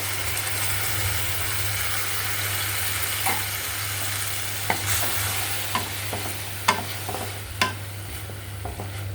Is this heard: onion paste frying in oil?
yes